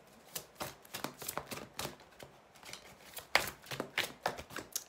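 Tarot cards are shuffled in a rapid series of crisp flicks and riffles, close and quiet, running in uneven bursts with no talking.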